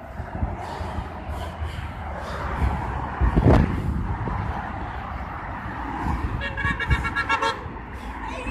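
Car horn honking in street traffic, a short harmonic toot rising over passing vehicle noise, followed by a longer, louder blast near the end.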